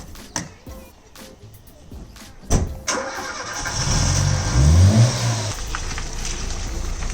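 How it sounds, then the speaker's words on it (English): A Volvo 340 car engine turns over and catches, then rumbles steadily louder as the car creeps forward nearby, with no talking. "So I'll pull the car up here"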